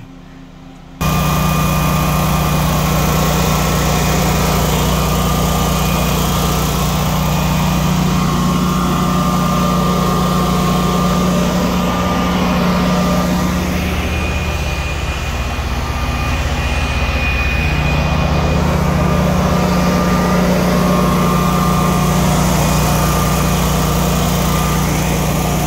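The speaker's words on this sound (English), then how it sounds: "Let's walk out to our generator." A Generac 20 kW standby generator runs outdoors beside a hybrid solar system, giving a loud, steady engine drone with a constant hum that barely changes throughout.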